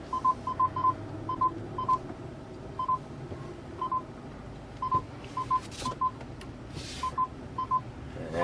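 Alert beeps from a FinSense proximity sensor sound in quick repeated pairs and triplets of short electronic tones, clear above a low background rumble.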